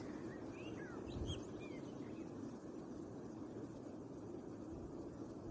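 Birds chirp faintly from their branches, with a few short, thin calls in the first second and a half, heard over a steady low rumbling wind.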